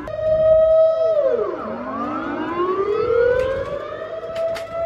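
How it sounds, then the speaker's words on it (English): Civil defense alarm siren sounding during the monthly first-Monday test in the Netherlands, a loud wailing tone that falls sharply then slowly rises again, steady and alone with no talking. "in the Netherlands, on the first Monday of every month, they test alarms"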